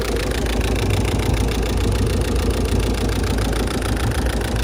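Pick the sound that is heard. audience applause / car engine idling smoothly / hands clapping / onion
car engine idling smoothly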